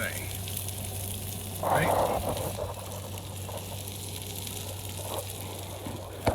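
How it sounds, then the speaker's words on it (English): Chicken sizzles on a grill in a steady, soft crackle with a brief louder hiss partway through, while someone speaks briefly over it. "It's in there just sizzling, doing its thing."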